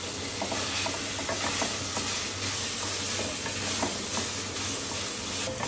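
Large onion slices fry in hot oil with a steady, close sizzle and hiss, broken by repeated scraping stir strokes throughout, with no voices.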